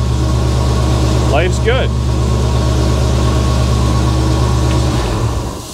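An LS-swapped 1956 Chevy wagon idling around 1000 RPM, its steady low engine drone running throughout and slightly hunting, close and loud, with a brief spoken remark over it before the sound drops off near the end.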